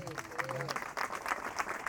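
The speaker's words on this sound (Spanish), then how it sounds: "merece más que un aplauso" Scattered clapping from a small group, uneven and moderate, with a voice briefly audible at the start.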